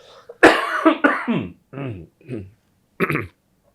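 A few sharp, forceful coughs in quick succession, close and loud, followed by a brief pause and one final short cough burst.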